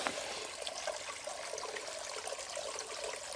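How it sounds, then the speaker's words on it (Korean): A small mountain stream in a Jirisan valley runs right beside a hanok house in a remote village, giving a soft, continuous trickle and burble of water over stones and rocks, steady and fairly faint. "절절절절 물 흐르는 소리가 정답게 이렇게 흐르고 있는데요"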